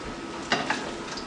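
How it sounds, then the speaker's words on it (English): Potato cutlets with minced meat frying in a pan give a steady soft sizzle, with two brief louder scrapes or stirs as a cutlet is turned; no talking. "You can see it's really nicely fried."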